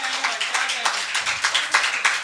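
A small audience at a Hindi shayari poetry recital claps in a quick, steady patter of individual hand claps, close and fairly loud, with no voice over it.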